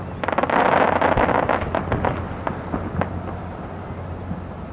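A rapid burst of Fourth of July fireworks in Bellingham, Washington cracks and booms, loud and dense at first, then thinning into scattered pops and rumbling echoes.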